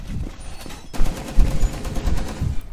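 Gunfire in Rainbow Six Siege, a sharp burst around the one-second mark followed by several loud irregular shots and impacts over a low rumbling background, with no talk.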